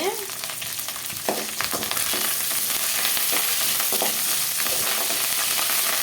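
Curry leaves and dried red chillies crackle and sizzle in hot oil for mango pachadi, a loud, steady frying hiss with brief spits and stirring clatter close by, no voices.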